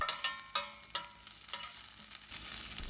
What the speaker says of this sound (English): 6 curry leaves and some coriander leaves. Fry this for just 2 seconds.